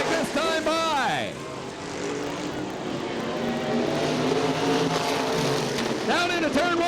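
Super Late Model race cars roar past on an oval track at Butler Battlegrounds in Quincy, Michigan, engines rising and falling in pitch as they pass close by, with a loud pack filling the middle and an announcer talking over them.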